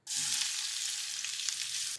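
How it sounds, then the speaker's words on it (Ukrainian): Steady, loud sizzling of onions frying in a hot pan, continuous and close, with faint stirring scrapes and no voices. "І в нас залишилася ще цибуля, яку ми також обсмажуємо."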